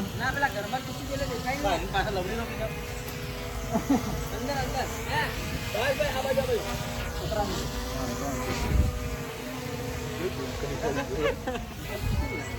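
A small drone's propellers whine with a steady, buzzing hum, while people talk nearby over the droning.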